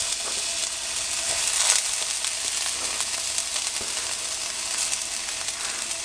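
Vegetables hit a hot pan of oil alongside fried bean curd for a vegan teriyaki dish, setting off a steady, loud sizzle with crackling spatter that swells briefly, then holds a continuous hiss throughout.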